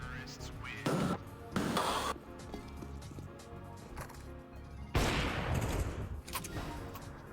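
Gunfire in the video game Counter-Strike comes in loud rapid bursts of shots, mixed with game music and sound effects, while a voice talks over the action.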